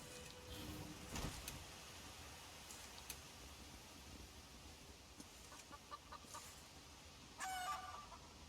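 Chicken in the video game Elder Scrolls Online, faint clucking and a short crowing burst near the end, heard sparsely over quiet game ambience.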